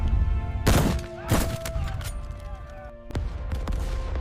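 Sharp reports from a German 88mm gun firing at long range, three separate heavy cracks spaced over a few seconds, each followed by a rolling boom, with no talk.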